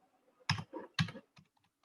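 A handful of crisp keystrokes on a computer keyboard, close and fairly quiet, as a search term is typed into a library search engine. Two firmer clacks are followed by lighter taps.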